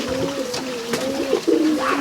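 Pigeons, rollers and homers kept in a loft, coo in low, steady warbling phrases, close and continuous with soft rustling underneath.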